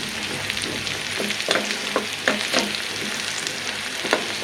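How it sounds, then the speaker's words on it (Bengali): Greens sizzle in hot oil with crushed garlic and whole chilies for tempering, a dense crackle broken by brief stirring clacks of a utensil in the pan, close and with no talking. "শাকটা সুন্দর করে বাগার দেবো থেতলা রসুন দিলে শাকে আর যদি দেন গোটা গোটা এরকম মরিচ"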